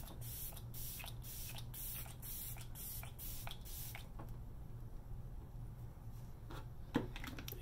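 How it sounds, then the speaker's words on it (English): Repeated short hissing bursts of a makeup setting spray bottle sprayed on a face, several quick pumps close up, then quieter rustling and a soft tap. "I'll get another setting spray."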